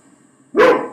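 A caged dog in a packed terrace-house backyard, found during a police raid, lets out one loud, close bark after a quiet moment.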